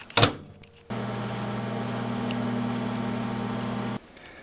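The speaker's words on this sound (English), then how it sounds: "I'm going to go ahead and get these melted up in the microwave." A microwave oven hums steadily for about three seconds while melting peanut butter and chocolate, bracketed by a door click before and a sharp beep and stop after.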